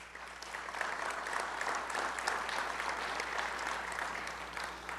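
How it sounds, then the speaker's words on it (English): Steady audience applause at an outdoor Field of Heroes memorial ceremony in Bayonne honoring fallen service members, a dense, continuous clapping wash that holds at even loudness for the full span with no voices over it. "They deserve a thank you and a round of applause."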